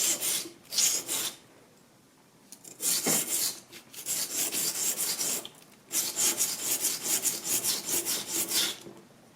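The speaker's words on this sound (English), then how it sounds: "Okay, and you sharpen it." A l'indispensable knife is sharpened in repeated rasping strokes, bursts of close, dry scraping with short pauses between them and no talk.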